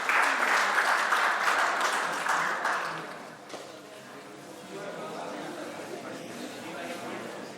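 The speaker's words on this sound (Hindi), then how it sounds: "एक बार जोरदार तालियां हो जाए इनके लिए।" Audience applause at a college poetry event, a dense, loud burst of clapping for the first three seconds that quickly fades to a low crowd murmur with scattered sounds.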